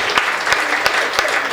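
Audience applause at a Hindi comedy poetry gathering, a steady dense wash of clapping from a crowd with a few sharper bursts standing out, continuous throughout and fairly loud, with no talk over it.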